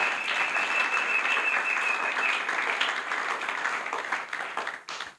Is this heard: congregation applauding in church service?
yes